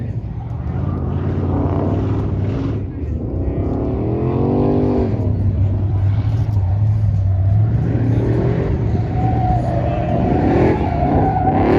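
A Dodge Coronet muscle car at a drag strip slides sideways, its engine roaring loud and near with rising and falling revs and a brief tire scrub, while a voice talks over it.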